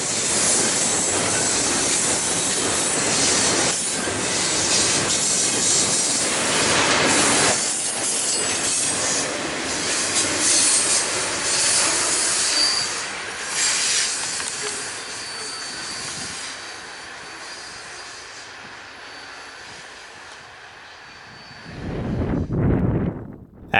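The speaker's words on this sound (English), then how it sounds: "After 115 passed the south end switch at Perks, then the train in the siding continued its descent north" A CN freight train led by ex-Illinois Central Dash 9 locomotives rolls past near Perks, loud and close with a continuous roar, hissing and squealing wheels, fading somewhat before a final surge of rumble.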